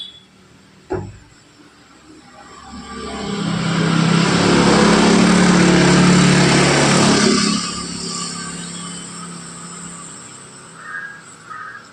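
Electric sewing machine stitching the pleated front of dhoti pants, a sharp thump followed by a steady, loud motor whir that swells for several seconds and then winds down to near quiet, heard alone.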